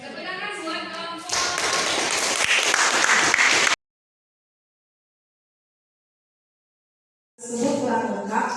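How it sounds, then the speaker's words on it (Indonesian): A classroom group gets a burst of clapping, with dense hand claps filling about two and a half seconds, then dead silence before another stretch of claps and murmuring voices. "Tepuk tangan buat kelompok."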